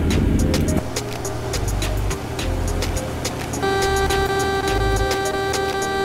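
Truck engine in American Truck Simulator, a heavy steady low rumble with fluctuating throb, joined later by sustained tonal whine and scattered sharp clicks.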